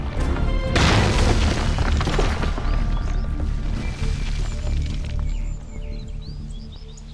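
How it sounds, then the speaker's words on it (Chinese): A loud, booming explosion bursts near the start, then a long rumbling roar slowly fades, with faint bird chirps audible toward the end. "怎么还让它爆炸了？"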